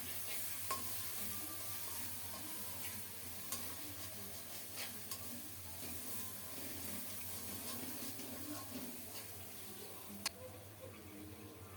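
Masala for an egg curry sizzles faintly in a pan as it is stirred and fried, a soft continuous hiss broken by occasional light scraping clicks.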